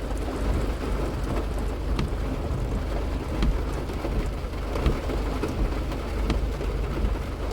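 Heavy rain pours steadily onto the track at Circuit Grand Bayou No Problem Raceway, Peanut layout: a dense, continuous hiss with low rumbling underneath and occasional sharper splashes, with no voices.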